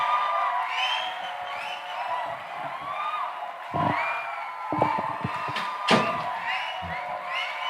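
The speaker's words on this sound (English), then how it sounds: "Big applause." Applause and cheering from a crowd at the close of a live broadcast, fairly faint and steady, with scattered whoops, a few sharp claps or knocks, and voices murmuring through it.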